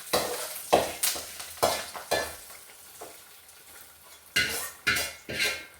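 Curry leaves added to hot oil with browned onions for a Kerala-style ivy gourd curry, with a spoon scraping and stirring the pan in repeated strokes over a soft sizzle.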